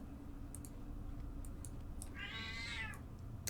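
Thief Kitty, a pet cat in a video game, gives a single drawn-out meow midway through, heard over steady game background hum with a few faint clicks.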